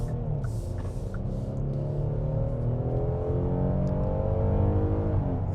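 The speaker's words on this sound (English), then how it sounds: "hitting the accelerator in comfort mode, we got right up to speed there very easily" A 2025 Kia Telluride SX Prestige X-Line accelerates onto a highway in comfort mode. A low engine rumble climbs smoothly in pitch under steady road noise, heard from inside the cabin.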